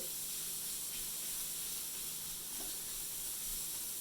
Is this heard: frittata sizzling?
yes